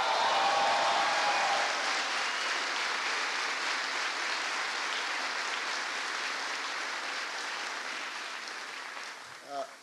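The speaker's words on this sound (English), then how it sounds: "Kathleen Stevens and General Skip Sharp, please give them a big round of applause" A crowd gives a dense, sustained round of applause at a presidential address to a US Army garrison in Yongsan, Korea, holding steady for about ten seconds before tapering off.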